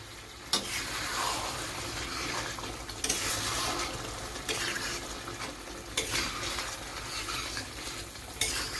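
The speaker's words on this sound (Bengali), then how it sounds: "এবার খুব ভালো করে আমি এটাকে মাখিয়ে নেব আর কিছুক্ষণ ফোটাবো" Chicken curry with curd water stirred in a pan for Bihari chicken, a wet bubbling and swishing scrape that repeats in sweeps every few seconds over a steady simmering hiss, nearby with no talk.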